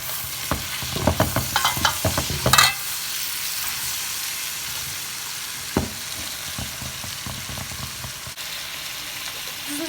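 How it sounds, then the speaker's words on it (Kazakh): Carrots and hot and sweet peppers sizzle in oil for lagman while a utensil stirs them, a cluster of scraping strokes early on, then a steady frying hiss with an occasional clatter, close and without speech. "Барлығын жақсылап араластырып қуырамыз."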